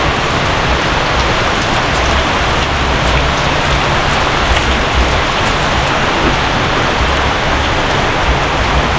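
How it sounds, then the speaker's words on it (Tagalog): Heavy rain pours down steadily and loudly, a dense, unbroken hiss of drops close by that never lets up. "Taas ng ulan."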